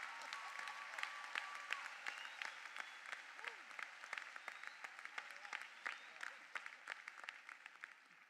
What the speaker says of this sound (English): Oh, now you may applaud for all of that.